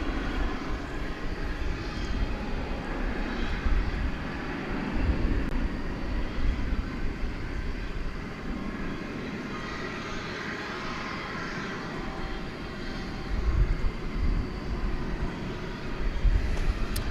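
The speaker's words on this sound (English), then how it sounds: "There goes Sky West and Mitsubishi CRJ 701ER." A SkyWest Mitsubishi CRJ-701ER regional jet passes at night at DFW Airport, a steady broad roar of jet engines holding at moderate distance, swelling slightly toward the end.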